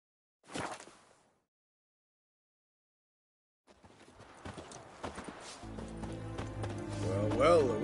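A horse gallops in The Witcher 3 video game, its quick hoofbeats drumming close and loud after a short opening sound and a gap, with game music and voices building underneath toward the end.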